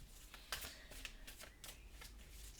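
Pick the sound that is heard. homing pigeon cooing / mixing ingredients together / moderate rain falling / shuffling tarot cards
shuffling tarot cards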